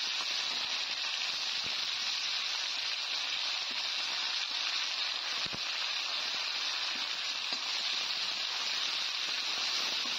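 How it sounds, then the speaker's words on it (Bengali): Chopped onions fry in oil in a pan, giving a steady, even sizzling hiss that carries on without a break at moderate loudness. "এই পেঁয়াজটা আমি বেশি লাল লাল করে ভাজবো না,"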